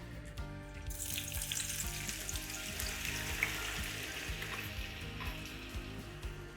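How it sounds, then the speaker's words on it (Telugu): Onions fry in hot oil in a kadai, being turned into brown onions for an egg fried rice biryani. A dense, continuous close sizzle runs with occasional stirring scrapes, and nobody speaks. "ఇలా వేడిగా ఉన్న నూనెలో ఉల్లిపాయలు వేసేసి వేగనివ్వాలి"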